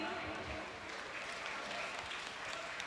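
An audience at a state-level inter-school championship education festival applauds a school team. The clapping is steady, faint and distant, with no break across the short stretch.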